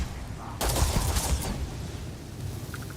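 A rapid burst of gunfire in the sci-fi video game Starfield rattles for about a second, then fades into a quieter background.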